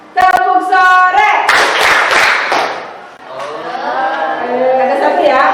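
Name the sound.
children's rhythmic clapping game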